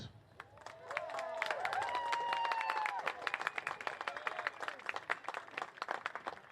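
Applause breaks out for the Ashland High boys soccer seniors at a varsity match against Blackstone Valley, a crowd clapping and cheering at moderate distance, swelling then thinning into scattered claps.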